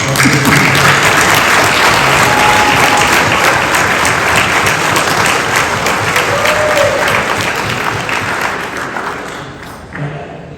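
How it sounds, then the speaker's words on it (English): Applause from a large audience at an award ceremony, a loud, sustained wash of clapping that holds steady for about nine seconds and then tapers off near the end. "I think a round of applause for all you folks that are here is appropriate."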